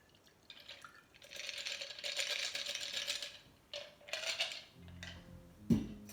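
A bourbon old fashioned is strained and poured over a single ice cube, giving soft bursts of trickling liquid with faint clinks, ending in a sharper clink of glass.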